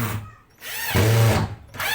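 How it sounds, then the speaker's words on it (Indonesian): A power drill spins up in short bursts close by, whining as it bites into a plywood backdrop board, with a brief pause between runs. "kita langsung bor di sini"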